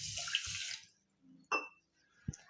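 A short splash of water poured from a small metal cup into a vessel, followed by a couple of faint clinks and drips in a quiet room.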